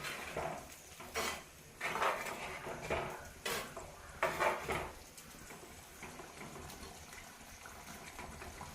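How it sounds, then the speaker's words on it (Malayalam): Mutton curry being stirred in a pan for a Kerala-style dish, with a few loud scraping and clattering bursts of utensil against pan among soft wet mixing sounds, close and without talk. "ഈ വെന്ത ഇറച്ചി നമുക്ക് ഇതിലേക്ക് ചേർത്ത് കൊടുക്കാം ഇതെല്ലാം കൂടെ ഒന്ന് മിക്സ് ചെയ്യുക"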